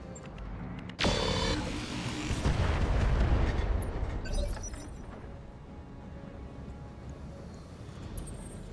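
Long-range missiles slam down in a Battletech Roguetech mech battle: a sharp impact strikes, then a rolling rumble of explosions swells and fades into a low, steady background.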